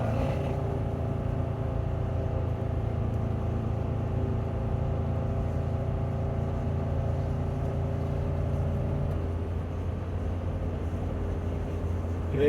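A 24-foot RV towing a car cruises along an expressway, its engine a steady low drone with tonal hum and road noise throughout, close and unbroken, no talk.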